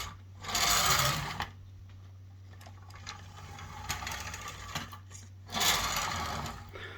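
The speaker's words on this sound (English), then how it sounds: "It grabs on a 90-degree angle those gears, and it spins and drives this lead screw in and out." A robot arm's motor drives gears that spin a lead screw, giving two loud whirring bursts separated by quieter mechanical clicking and a steady low hum.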